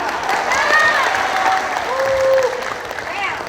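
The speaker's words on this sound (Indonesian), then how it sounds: "Tepuk tangan." Audience at a regional political gathering in Tasikmalaya claps briefly, with bright whistles or cheers rising above the clatter and voices mixed in throughout.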